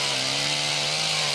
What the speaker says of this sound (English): The chainsaw will prove to be an indispensable tool.